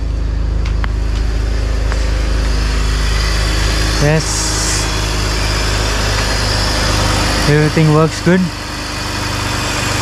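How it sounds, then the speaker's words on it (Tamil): A BMW engine idles smoothly and steadily after a valve cover gasket repair, a low constant hum close by while someone talks briefly over it. "இன்ஜின் சவுண்டும் பக்காவாக தான் இருக்குது."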